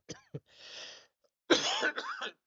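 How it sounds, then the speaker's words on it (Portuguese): Dry coughing comes in a short burst: two quick sharp coughs, a rasping exhale, then a harsher, longer cough with throat clearing, close and fairly loud. "Tá com a tosse seca, cara."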